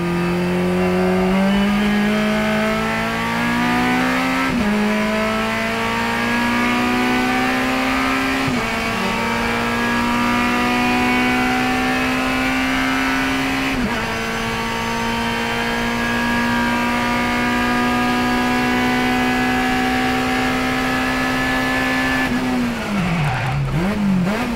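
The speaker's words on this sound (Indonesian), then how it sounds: "sekarang silakan nikmati footage saya menyetir mobil ini pada saat siang dan pada saat malam" A Suzuki Swift race car driven flat out in a 1000 km endurance race, its engine droning loud and steady with rising revs and gear-change dips every few seconds, close and continuous with no talk.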